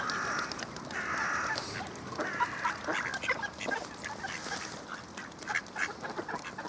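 Ducks gather to be hand-fed at a bird house in Heinola, with quacking and honking calls repeating close by over a steady outdoor background.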